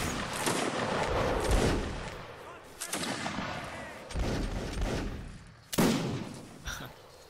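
Volleys of gunfire ring out in a video game battle, loud repeated bursts and cracks with several sharp shots standing out, while faint voices come through in the background.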